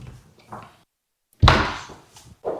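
A tall door in a modern house closes with a single firm thud, heard after brief quiet and framed by soft voices talking before and after.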